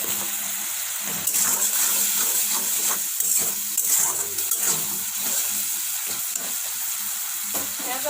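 Spiced masala for kadhai mushroom fries in a pan, a loud steady sizzle throughout with occasional stirring scrapes close by.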